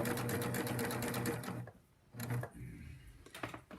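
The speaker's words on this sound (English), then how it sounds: "I'm just gonna sew all the way around" A close sewing machine hums and clatters in fast, steady stitching as it sews quilt binding around a round project, pausing briefly midway before running on again.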